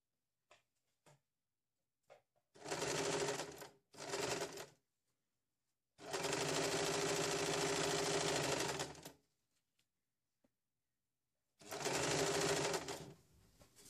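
A sewing machine stitches the square neck seam of a saree blouse with a quarter-inch margin, running in four quiet rapid bursts of different lengths separated by pauses.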